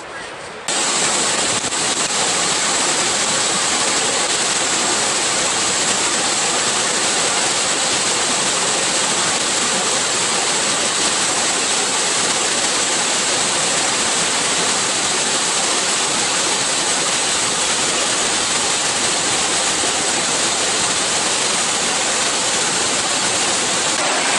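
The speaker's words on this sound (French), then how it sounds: "je suis arrivé ici au chute d'eau" Bousra Waterfall in Mondulkiri, Cambodia roars as a steady, dense, loud rush of falling water filling the whole clip without a break.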